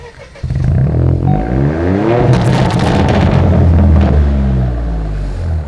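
A Stage 1 tuned 2021 Opel Corsa with a 1.2 PureTech engine roars to life and keeps running loudly and close by, with throaty revving and a steady rumbling idle.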